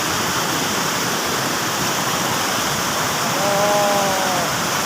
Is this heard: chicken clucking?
no